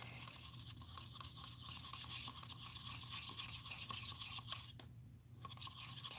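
Paint being stirred with a mixing stick in a container, a steady soft scraping and swishing that runs continuously and fairly close, with no speech.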